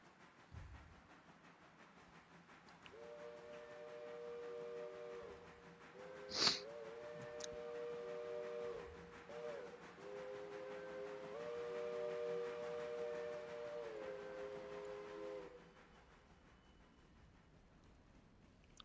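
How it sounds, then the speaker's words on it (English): Train in the video game Railroader rolling through rain, a long steady rumble with a sustained multi-tone whistle blast in the middle, a brief sharp click partway through, moderately loud and alone. "we'll go ahead and just get that other train rolling"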